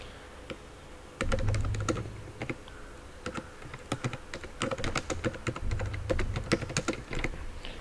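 Typing code on a computer keyboard, a steady close clatter of many quick key taps with short pauses between bursts, alone without talk.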